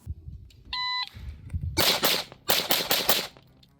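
Glock 43x pistol fired in rapid strings: a short electronic beep, then two quick bursts of loud, sharp close shots, about three or four in each, with no talk.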